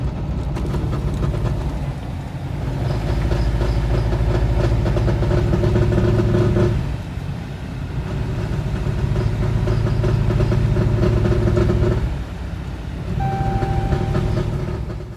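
A 2010 Dodge Ram 1500 Hemi idling with an abnormal engine noise: loud, steady mechanical drone and whine that swell and ease in long waves, heard close with no talking.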